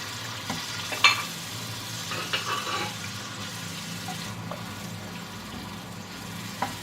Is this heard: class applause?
no